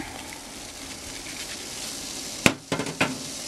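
Coconut milk simmers in a pot with a soft, steady bubbling hiss, then a few sharp metallic clanks of a utensil against the pot near the end.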